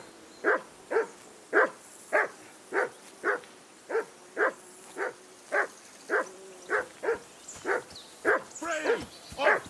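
A dog barks repeatedly in Kingdom Come: Deliverance 2, about sixteen evenly spaced barks at a steady pace, fairly close and clear, becoming a faster, more excited flurry at the end.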